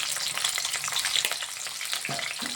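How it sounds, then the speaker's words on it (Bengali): Salted bitter gourd slices fry in a hot pan with a dense, close sizzle and a few brief stirring scrapes, and no one speaks. "উচ্ছেটা আগে একটু ভেজে নিচ্ছি"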